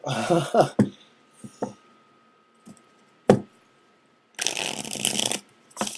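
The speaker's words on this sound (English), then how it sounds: "I've had people tell me that they like to see the shuffling." Bursts of brisk riffling and slapping as tarot cards are shuffled come in several spurts separated by short pauses, ending with a longer dense shuffle.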